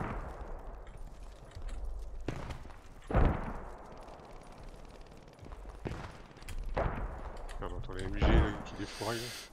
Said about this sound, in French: Ah, attention, ça tire sur la gauche